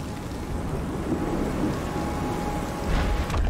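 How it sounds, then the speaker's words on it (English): Video game rain in Shadow of the Tomb Raider: steady rain hisses under a low rolling rumble of thunder, with a brief louder gust near the end. "Now it's raining somehow."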